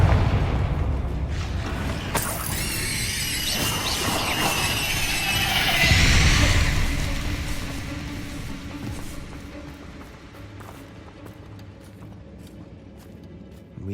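Blasting spell explosions in Hogwarts Legacy erupt in a dense, loud roar of bursts and crackling debris that peaks midway, then fades into a lower rumbling tail.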